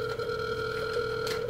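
Outgoing phone call ringing back on the line, a steady sustained two-tone ring held through the whole short stretch, clear and alone with no talk.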